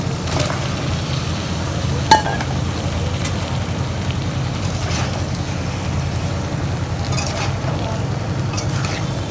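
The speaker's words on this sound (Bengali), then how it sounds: "আলুটা কষানো হয়ে গেছে, এখন পটলটা দিয়ে দিচ্ছি।" Potato and pointed gourd sauté in a pan with a steady, fairly loud sizzle, joined by occasional scrapes and clinks of stirring, with no speech.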